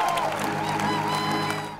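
Baseball fans at a St. Paul Saints ballpark ceremony applaud and cheer in a broad, steady wash of clapping and crowd noise, with scattered whoops and a voice ringing over the stadium sound.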